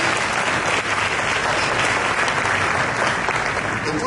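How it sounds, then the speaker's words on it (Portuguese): A church congregation applauds steadily, a dense, even wash of clapping that holds at the same loudness throughout. "dá uma salva de palmas para ela."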